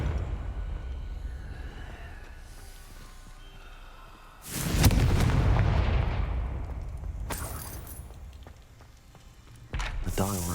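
The Confringo explosive spell going off in Hogwarts Legacy, a sudden loud blast with a long whooshing decay, then a second burst a few seconds later and a third hit at the end.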